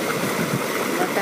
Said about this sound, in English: You can hear the creek rushing behind me.